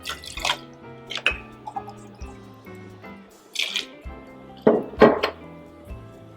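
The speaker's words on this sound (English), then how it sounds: "We take 2 ounces of the bourbon." Bourbon poured into a cocktail shaker used as a stir cup: several short glugs and liquid splashes with light glassy clinks in between, close and fairly quiet.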